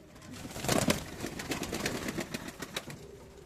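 Pigeons in a loft shuffle and flap, with a burst of wing beats followed by scattered scratchy rustles and soft coos, fairly close but not loud.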